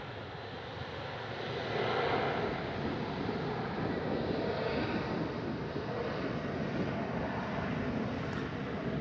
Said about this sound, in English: we have a 737 up next out of one right. And it seems like it's going to get moving right away